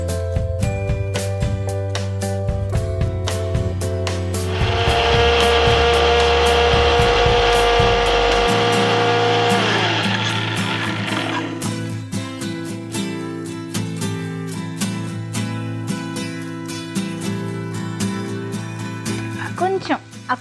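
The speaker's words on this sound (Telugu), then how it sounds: "మనం ఈలోపు పండుమిర్చి గ్రైండ్ చేసేద్దాం" A kitchen mixer grinder grinding red chillies whirs loudly in a steady drone for several seconds, then winds down and stops, with a person talking over and after it.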